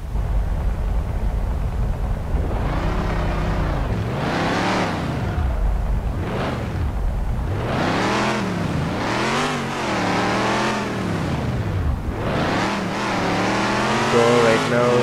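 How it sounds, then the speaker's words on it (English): A Bugatti Chiron revs repeatedly while drifting through an industrial area in Car Driving Simulator 2020, engine pitch swooping up and down in loud, rhythmic surges with brief dips between. "So right now I'm in the industrial area at this level, and the drift is really fantastic."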